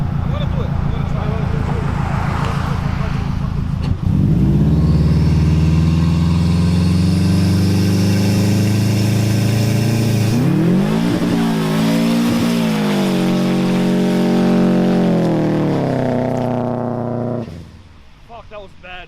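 A turbocharged K-swapped EK Honda Civic engine revs loudly nearby, rising in a long climbing pull before dropping back, with a raspy idle at the start and end and voices briefly audible.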